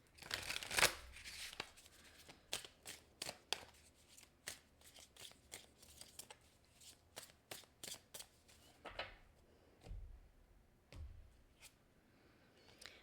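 Tarot cards shuffled and drawn by hand: a quick riffling burst, then a long run of crisp, close card snaps and slides at an uneven rhythm, quiet and without talk.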